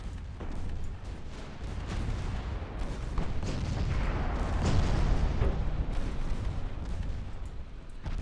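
Naval guns fire in the Ultimate Admiral Dreadnoughts warship battle game, dense overlapping booms and rumbling blasts rolling continuously at high volume with no gaps.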